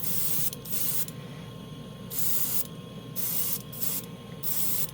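Airbrush spraying Golden High Flow white acrylic paint, a steady close hiss in repeated bursts of about half a second to a second, separated by brief pauses, with no voices.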